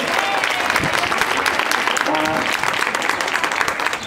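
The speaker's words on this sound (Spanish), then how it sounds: "Así que pido un fuerte aplauso" An audience at Parque Warner claps steadily, a dense burst of applause throughout.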